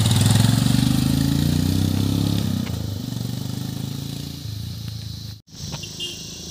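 A motorcycle engine runs steadily nearby, with a continuous low rumble that eases slightly partway through, then a brief dropout before the drone resumes; no voices are present.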